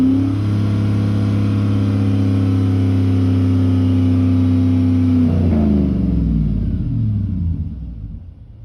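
A 5.3L V8 held steadily at around 4,000 RPM drones loud and close, then the revs drop and the engine winds down to quiet, no talk over it.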